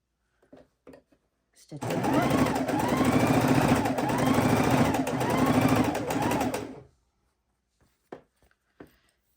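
A sewing machine stitches 2 1/2-inch scrap quilt blocks placed right sides together, giving one close, steady whirring run of about five seconds, with faint handling sounds before and after.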